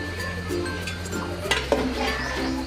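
A spoon stirs chicken biryani in a pot, scraping and clinking softly against the metal over a low simmering hiss, with a couple of sharper knocks partway through.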